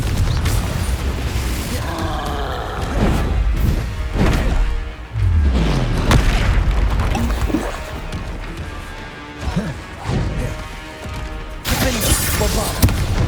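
Confringo blasting spells go off in Hogwarts Legacy amid fast combat, with repeated booms, thuds and crashes coming in irregular bursts close up, mixed with whooshes and scattered impacts throughout.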